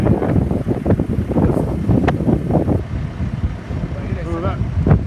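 Wind gusts roar against the microphone during large tree removal, a loud blustery rush that surges and fades, with people talking over it.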